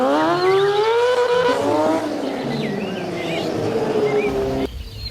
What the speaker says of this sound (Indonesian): ternyata motor balap